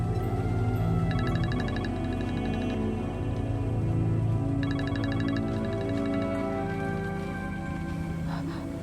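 A phone ringing twice in a soap-opera home scene, two bursts of rhythmic electronic ringtone pulses standing out over a steady background bed of music and ambience.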